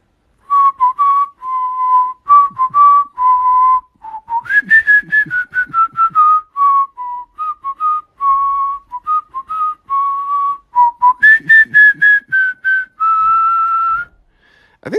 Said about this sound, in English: Think that's the first time I've ever whistled for you guys.